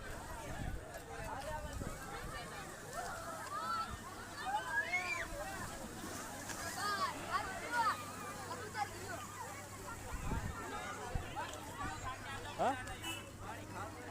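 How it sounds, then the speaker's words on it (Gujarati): High sea waves slosh and splash against a boat on the sea near Dwarka, a continuous washing roar with a hubbub of crowd voices over it. "આમાં જો મોજા કેટલા ઊંચા ઊંચા મોજા બહુ ઊંચા"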